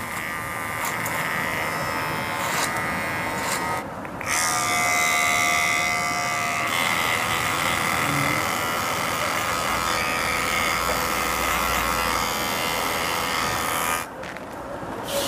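An electric hair clipper buzzes steadily and close up while cutting hair during a first haircut, its whine shifting in pitch as it moves, with two brief pauses along the way.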